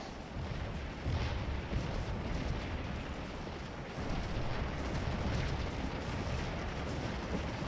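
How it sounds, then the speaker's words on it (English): Continuous heavy rumbling of artillery and gunfire in a Civil War battle video game at Antietam, dense overlapping booms and bursts filling the whole stretch at a steady, loud level. "All this artillery, this concentrated gunfire."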